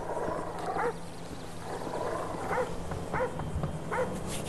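Dog barking in GTA 5, several short barks spaced out at an even pace, under a steady game background of hum and ambience.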